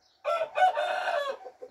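A rooster crows once nearby, a loud, clear cock-a-doodle-doo with a stretched middle and a short tail, alone against a quiet background.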